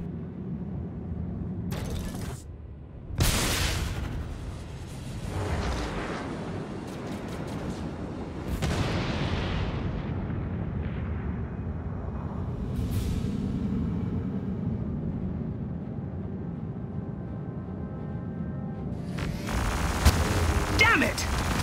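Ship weapons fire and explosions in the space game Star Citizen come as several sharp bursts and booming blasts over a low rumbling drone, with loud crackling near the end.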